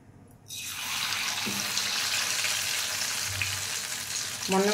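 Chicken lollipops drop into hot oil and fry with a loud, steady sizzle that holds without pause, swelling a little toward the end, with no talking.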